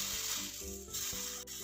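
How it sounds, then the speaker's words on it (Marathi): Rodga flatbread sizzling on a hot iron griddle (tava) after water is spread over it, a steady close bright crackle and hiss with a few soft scraping shifts, no voices. "हा रोडगा आता आपल्याला तव्यावर टाकून भाजून घ्यायचा आहे"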